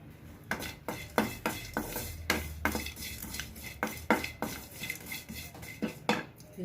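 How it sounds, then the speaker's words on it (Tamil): Licorice root pieces dropped and stirred in a pan for a cold and cough home remedy, giving a run of sharp clinks and scrapes of utensil on metal at an irregular rhythm, close and fairly loud with no voices. "இப்போ இது கூடவே நம்ம இந்த அதிமதுரம் போட்டுக்கலாம்."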